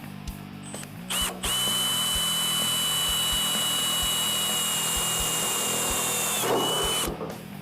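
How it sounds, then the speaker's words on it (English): A power drill runs in one long, steady whine for several seconds, with brief starts and stops at each end, close and loud. "That way your drill bit does not dance around"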